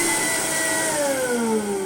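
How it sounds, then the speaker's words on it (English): A 1987 Beko bench vacuum cleaner runs steadily and loudly throughout, its motor whine holding a constant high hiss with tones that sag slightly, heard alone with no talk. "my bench vac is going superbly still"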